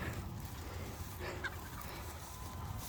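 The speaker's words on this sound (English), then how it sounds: "Here comes the chickens." Chickens being let out on a farm, with soft clucking and fowl chatter spread across a steady low ambient background, fairly faint and continuous with no clear talk.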